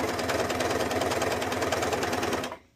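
An overlock serger sews and trims discarded fabric for a kimono robe, giving a fast, close, evenly pulsing mechanical chatter that runs steadily alone before stopping.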